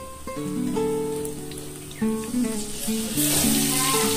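Spice paste goes into a pan of lightly fried onions while cooking small chuno fish, giving a steady hiss and sizzle that swells louder near the end, with soft musical tones underneath.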